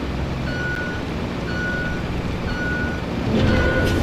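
A truck in the video game Roadcraft sounds its reversing alarm, a steady beep repeating about once a second over a loud, constant engine rumble.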